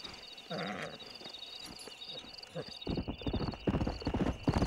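A stallion in the Red Dead Redemption video game clops its hooves and gives a whinny early on, with the hoofbeats growing louder and more rhythmic toward the end, mixed with in-game voices.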